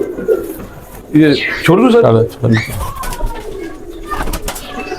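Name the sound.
pigeons cooing, Badshah chuha pigeon pair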